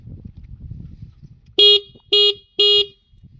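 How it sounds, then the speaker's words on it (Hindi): Three short, loud electric horn blasts from a 2025 TVS Raider iGO motorcycle in quick succession, each a bright, buzzy tone lasting about a quarter second, following a low idling rumble. "हॉर्न की आवाज़ बहुत अच्छी है"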